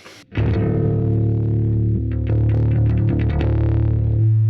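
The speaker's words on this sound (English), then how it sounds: "Yeah, a lot less distortion on that one, a lot less fuzz and fizz." Bass guitar notes played through a Groove Lab FX Black Haze low-distortion pedal, warm and slightly gritty with little fizz, sustained phrases with a few plucked changes, loud and close.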